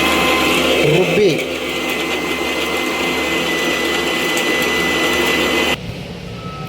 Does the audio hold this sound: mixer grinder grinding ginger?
yes